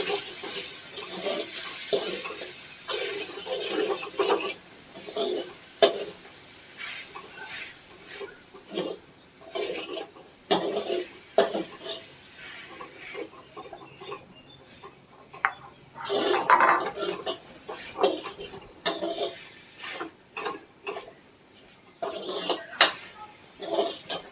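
Paneer is stirred and mixed in a cooking pot on a gas stove, with irregular scraping and clanking of a spoon against the metal pot in uneven bursts, close by.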